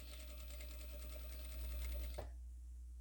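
A sewing machine runs a steady, fast backstitch for about two seconds, then stops abruptly with a short click, leaving only a low hum behind.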